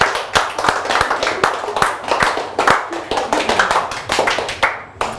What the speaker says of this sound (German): normalerweise klatschen wir, wenn einer so viel Mut beweist und den Strom einschaltet